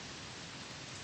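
Steady rain falling, a dense, even hiss with no breaks, heard faintly and alone.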